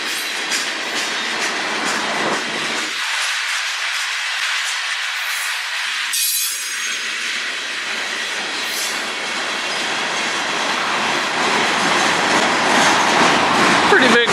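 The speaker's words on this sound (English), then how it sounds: "Pretty big train." A big train on the Strathroy Subdivision rumbles steadily past nearby, a broad continuous roar of wheels and cars that grows slightly louder toward the end.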